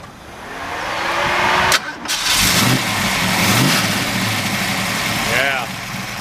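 A 1961 Ford Falcon wagon's engine cranks and catches, then settles into a steady rumbling idle with a brief rev, loud and close.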